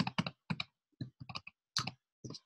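Keys on a computer keyboard clack in irregular clusters of quick, close, crisp presses separated by short pauses, with no voices alongside.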